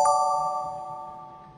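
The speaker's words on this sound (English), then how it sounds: "and you'll get this three chime." A car warning chime sounds once from a car's trunk area when the trunk fails to close after a hands-free module harness is installed, ringing bright and then fading in a quiet interior.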